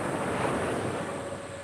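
Waves wash onto a tropical beach at sunset in a steady broad rush of surf, blended with wind buffeting the microphone, loud and continuous with no voices.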